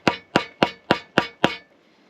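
A worn homemade olive wood mallet taps wood six times in an even rhythm, each knock sharp, close and clear, with a brief gap of quiet after the last.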